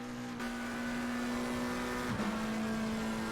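Old McLaren GT race car engine in a sim racing game at Spa-Francorchamps, a steady sustained drone holding a constant pitch, with a brief dip and recovery near the end, loud and close with no talk.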